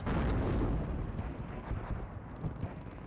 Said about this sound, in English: Mortar's firing on the M1A1 Abrams.